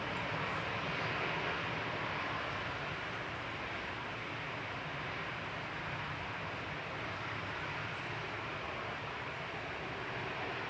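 An easyJet Airbus A320-200 airliner at Manchester Airport, bound for Alicante, gives off a steady, broad jet-engine roar. It sounds distant and holds an even level throughout, with no talking over it.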